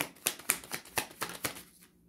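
A card drawn from a deck of fortune-telling cards, heard as a run of about eight crisp, close papery flicks and snaps in a quick, even rhythm that trails off into quiet.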